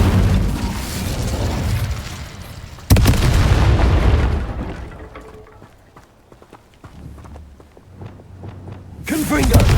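Fiery spell blasts from a wand in the Hogwarts Legacy video game: a sudden loud burst with a crackling roar that fades, then faint scattered clicks and pops, and another sharp burst at the end.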